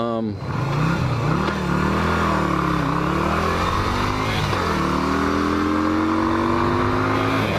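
A 2003 Yamaha XV250 Virago engine drones steadily while riding in top gear on a long, flat, straight road in mid-Michigan, its pitch rising and dipping slightly with throttle changes under constant loud wind noise.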